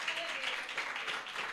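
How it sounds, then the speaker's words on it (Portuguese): Church congregation clapping to welcome the pastor at a worship service: a steady wash of many hands applauding throughout, mixed with voices. "Vamos receber o nosso pastor com as palmas"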